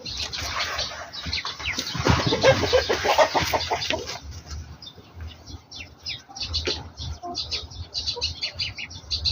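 Chickens cluck, chirp and squawk in a busy, overlapping chorus while leftover feed is poured out for them, loudest and densest in the first few seconds, then continuing in scattered close calls.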